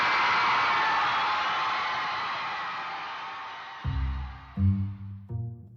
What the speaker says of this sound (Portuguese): Aplausos para a curiosidade de Registro!